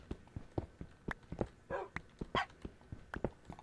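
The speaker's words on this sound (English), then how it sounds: "Oh, that little dog bark is so funny." Small dog barks in the video game Minecraft, a series of short sharp yips in quick irregular succession, close and clear with no talk.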